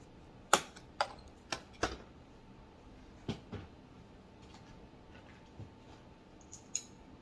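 Screws are removed from an Epson XP-15000 printer in a series of sharp close clicks and ticks, about eight irregular taps with quiet pauses between them and no talk.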